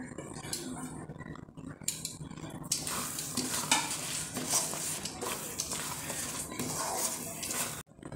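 Dal fry being stirred with a metal spoon as chopped coriander leaves are mixed in, giving close scraping and clinking against the pot over a steady sizzle, with soft talk at times.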